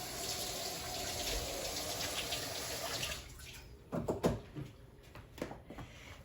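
Tap water runs steadily while a hand is washed during meatloaf prep in a home kitchen, a fairly loud gushing stream that stops after about three seconds, followed by a few faint splashes and drips.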